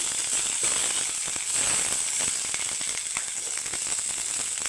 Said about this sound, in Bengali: আর দিয়ে দিব কিছুটা কয়েক কোয়া রসুন আর এখানে তিনটা কাঁচা লঙ্কা তো একটু নেড়ে চেড়ে নেবো তো নেড়ে চেড়ে একটু আমি ভাজা ভাজা করে নেব